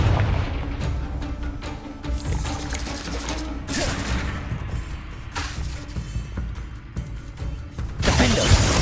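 Confringo blasting spells go off in Hogwarts Legacy combat: a few loud bursting blasts spaced several seconds apart over a dense bed of clattering, rumbling game effects.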